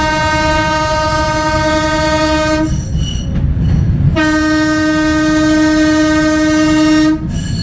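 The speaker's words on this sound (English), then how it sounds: "So when you cross the road, you blow the whistle." A loud, sustained trolley whistle with strong steady harmonics sounds twice at a road crossing: a long blast, a brief gap of rumbling motion, then another long blast over continuous rail noise.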